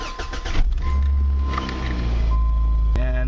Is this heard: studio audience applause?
no